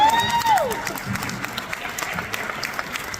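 An audience applauds warmly, opening with a sliding whoop of a cheer, then sustained clapping with scattered louder claps continuing to the end.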